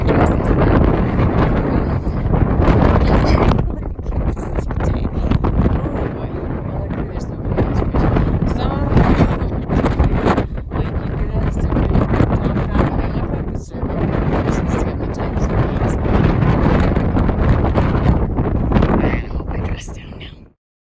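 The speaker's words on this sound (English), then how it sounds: "Oh, this wind is blowing my dress." Strong wind buffets the microphone on a bridge with reclamation markers, making loud, continuous low rumbling gusts with brief lulls, while someone talks over it.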